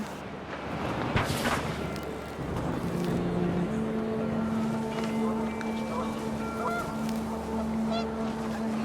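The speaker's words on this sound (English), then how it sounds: "The wind picked up, and panicked geese appeared and quickly went." Panicked geese honking in the video game What Remains of Edith Finch, several brief nasal honks over windy background noise, with a voice speaking over part of it.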